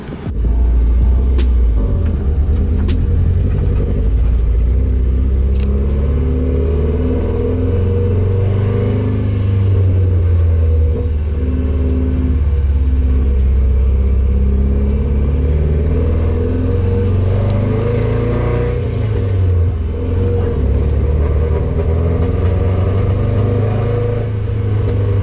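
A Nissan 240SX S13 drives along with its engine droning loudly and close, rising and falling as it accelerates and shifts, over steady road rumble throughout.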